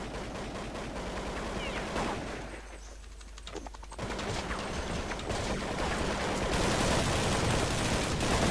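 Gunfire from a firefight in the video game Counter-Strike 1.6, dense rapid bursts of shots over loud steady background noise, easing briefly in the middle before resuming just as heavily.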